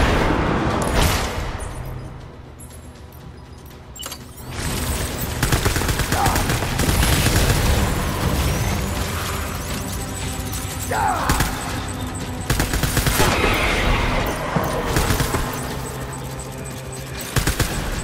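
Gunfire in the video game Death Stranding: sustained rapid bursts of shots and booms, loud and dense, with brief lulls between stretches and no clear talking.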